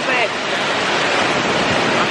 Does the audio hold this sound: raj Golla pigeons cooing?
no